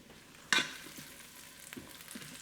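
Garlic browning in a pan gives a soft, low sizzle, broken by one sharp clatter of a utensil against the pan and a few faint stirring scrapes.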